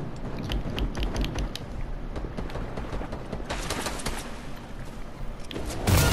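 Video game gunfire pops in rapid bursts of short cracks, a dense scatter of shots over steady background noise, ending in a louder burst.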